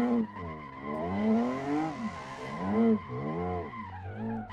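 A car in Assetto Corsa drifting with its tires squealing in long, swooping wails that rise and fall as the skid changes, continuous and close.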